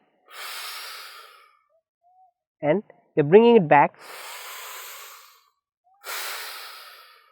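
Slow, deep inhales and exhales of microcosmic orbit breathing practice, three long airy breaths, close and steady, with someone speaking briefly between them.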